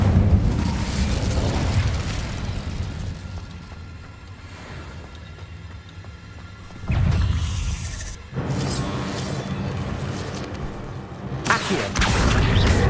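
In Hogwarts Legacy, the Incendio fire spell is cast amid battle, producing a whooshing, booming burst that swells abruptly partway through, with other blasts and rumbles around it.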